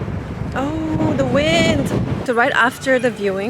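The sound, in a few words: wind blowing on a New York City street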